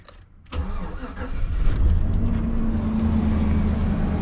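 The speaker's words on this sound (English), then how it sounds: "I'm going to go ahead and start the vehicle" A Chevrolet Silverado engine cranks and catches after a brief silence, then settles into a steady, close, loud idle with a low rumble.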